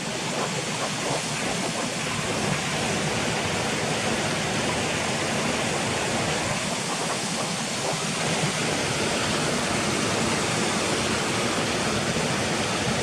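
A loud, steady rush of falling water fills the scene, broad and unbroken, with no voices.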